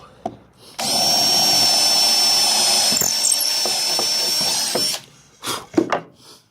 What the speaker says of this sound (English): And drill that first hole.